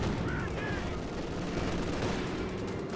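A strafing run in the Company of Heroes 2 real-time strategy game, with rapid, continuous bursts of machine-gun fire and impacts, loud and dense, and a voice faintly beneath.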